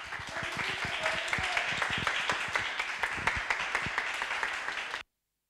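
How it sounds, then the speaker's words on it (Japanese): Applause from a church congregation at a Sunday service in Shinjuku welcomes the preacher to the pulpit, a steady patter of many hands clapping for about five seconds before it stops abruptly. "それでは、今日も慎吾先生をですね、期待を持って拍手を持って講談にお呼びいたしましょう。"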